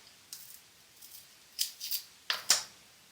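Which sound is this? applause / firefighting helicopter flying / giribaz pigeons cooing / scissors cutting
scissors cutting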